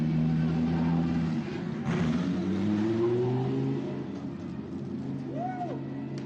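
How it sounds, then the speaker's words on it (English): Lamborghini Super Trofeo race cars roll slowly down the pit lane at Portimao, their engines a low, layered droning hum with occasional revs, moderately close and gradually fading. "The rest of the cars making their way down the pit lane."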